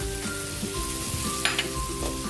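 Ground pork sizzles steadily in a hot pan for a Filipino stir-fry, a continuous close crackle with a few sharper spatters and stir clatters partway through.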